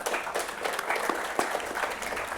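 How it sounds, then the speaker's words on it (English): A thin smattering of applause ripples through the audience at a book talk, with scattered, uneven claps at modest volume and no speech in the clip. "A smattering of applause."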